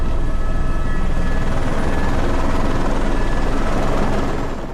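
Rescue helicopter hovering during flooding, a loud, steady rotor and engine roar filling the whole clip with dense low thumping and broadband wash, fading slightly at the very end.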